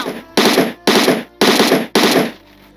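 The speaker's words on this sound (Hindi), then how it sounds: "दो चार गोलियां मैंने इसलिए बरसा दी अलग से" Four loud, close bursts of automatic machine-gun fire in a video game, each about half a second long and separated by brief gaps, with no talking.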